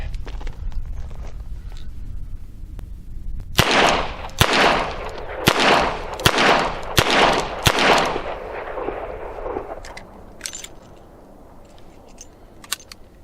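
Six double-action shots from a Ruger Security Six .357 revolver fired at a target, loud sharp reports in a fairly even rhythm about a second apart, followed by quieter handling clicks.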